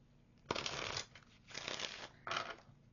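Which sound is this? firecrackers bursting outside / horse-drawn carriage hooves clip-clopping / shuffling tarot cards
shuffling tarot cards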